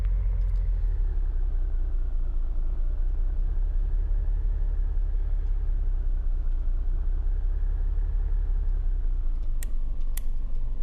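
A car engine rumbles steadily inside a cop car in a horror video game, a low continuous drone held the whole time with a couple of faint high clicks near the end and no talking.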